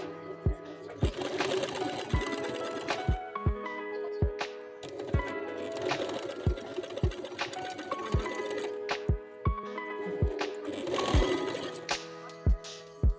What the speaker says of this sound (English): Now I'm gonna stitch my belt